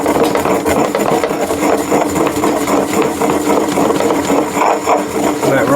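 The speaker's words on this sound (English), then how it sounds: "Now I'm going to grind that." Pink rock salt and dried herbs ground by hand, a loud continuous gritty crunching and rubbing with a rough, steady texture heard close up.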